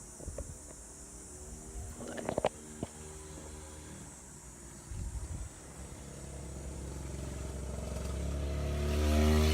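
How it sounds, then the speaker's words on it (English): A small motorized scooter approaches and buzzes past nearby, its engine rising steadily louder toward the end after some scattered clatter. "some random guy just rode by on a scooter"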